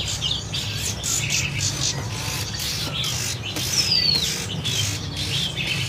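A Hồng Hạnh songbird at a Vietnamese bird shop sings, repeated bright chirps and squawks close by over a low steady background hum.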